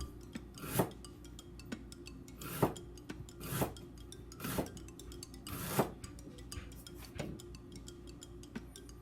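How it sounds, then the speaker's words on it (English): A knife chops fresh ginger on a cutting board for fried pork with pineapple, with sharp strikes about once a second and lighter ticks and scrapes between them, close and fairly quiet. "We cut some ginger"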